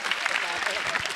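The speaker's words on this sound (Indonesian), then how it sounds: "tepuk tangan dulu untuk Yudit" An audience claps for a comic at an Indonesian stand-up comedy show's pre-show, giving a brief burst of dense, steady applause.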